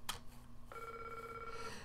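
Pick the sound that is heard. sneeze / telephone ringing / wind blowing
telephone ringing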